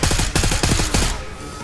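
Rapid automatic gunfire in the video game Call of Duty Black Ops 6, a loud close burst of evenly spaced shots lasting about a second before trailing off.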